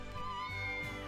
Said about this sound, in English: Oh, is that a kitty, dude?